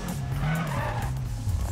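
A car drifts in the Need for Speed video game, its tires skidding in a loud, continuous screech over steady engine drone for the whole moment.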